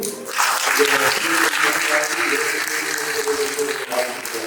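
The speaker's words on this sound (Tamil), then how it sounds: "இவர்களுக்கு ஜோராக கைத்தட்டி" Church congregation claps at a ceremony enrolling children as altar servers, a continuous round of applause with voices and music tones beneath it.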